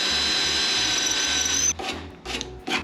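A power drill bores through metal on a Peugeot 205 strut cup, its motor whining steadily at close range before stopping, followed by a few short scraping strokes.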